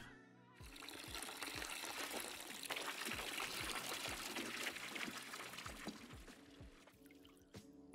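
Liquid pours steadily into a fermentation container in the Brewmaster beer brewing simulator game, a continuous splashing, gurgling stream that runs for several seconds and stops before the end, close and prominent.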